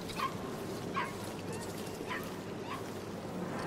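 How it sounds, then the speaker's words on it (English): In the video game Dishonored 2: Death of the Outsider, a small dog yips and whimpers several times at a moderate distance, with short high cries spaced through a faint ambient background. "I hear a little dog?"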